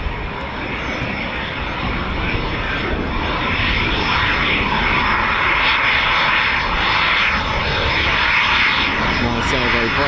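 A Eurofighter Typhoon FGR4 jet lands and brakes at RAF Coningsby with a loud, continuous roar and rushing engine noise that sweeps and shifts as it rolls out. Commentary runs faintly underneath.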